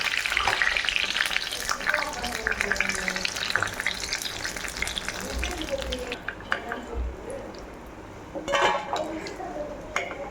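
Raw banana bajji slices frying in hot oil, with a steady close sizzle and bubbling throughout, and a few light clinks and stirring sounds toward the end.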